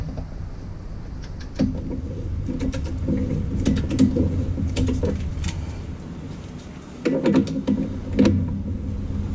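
A small ratcheting wrench works bolts on the front axle of a Jeep TJ, with bursts of quick metallic clicks and creaks in uneven runs, close and fairly loud.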